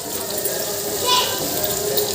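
Hot water is poured straight into a pan while cooking paneer in a home kitchen, giving a steady, close, rushing splash with a brief swell partway through.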